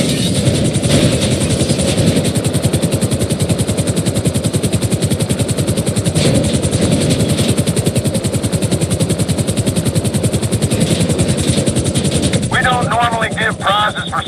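A helicopter in GTA 5 Online hovers low and sets down on a moving trailer, its loud, steady rotor chop thudding through the whole stretch with game sound effects layered over it.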